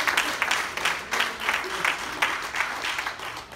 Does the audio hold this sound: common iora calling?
no